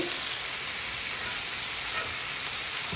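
Spiced lamb chops sizzle steadily in a pan of hot oil and rendering fat as they are turned over, a loud, continuous crackling hiss with no pauses.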